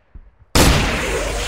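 A shoulder-fired weapon with a back blast goes off during platoon amphibious-landing training: a sudden, very loud single blast after quiet, then a sustained roaring wash of noise.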